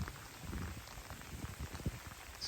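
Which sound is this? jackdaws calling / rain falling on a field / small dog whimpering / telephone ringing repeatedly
rain falling on a field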